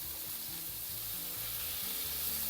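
Fish pieces for a fish curry hiss and crackle in hot oil in a frying pan, a steady dense sizzle close up with soft stirring clatter and no voices.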